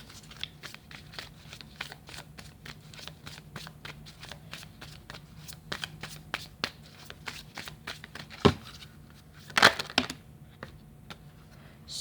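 A deck of tarot cards is shuffled by hand close up during a reading, giving a long run of rapid papery riffles and flicks, with a couple of louder slaps and rustles toward the end.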